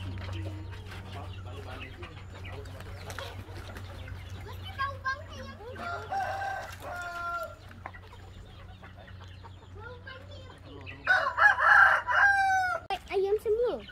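Chickens cluck in the background while a rooster crows loudly twice, near and clear, with people chatting quietly underneath.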